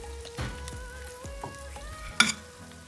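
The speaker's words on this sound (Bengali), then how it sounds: "আমি কড়া করে চিকেনটা ভেজে একটা পেটে উঠিয়ে নিব।" Chicken pieces fry crisp in a pan for stovetop tandoori chicken: a steady sizzle runs throughout, broken by several scraping stirs of a utensil and a sharper clatter near the end, with no voices.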